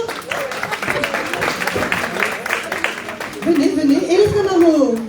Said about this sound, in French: bon applaudissement pour elle plutôt